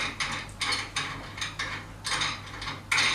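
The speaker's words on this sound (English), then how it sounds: "And the cymbal stand, you can adjust it to the height you want." Height adjustment of a cymbal stand on a junior three-piece drum kit, a series of ratcheting metallic clicks in short bursts, close and clear with no talk.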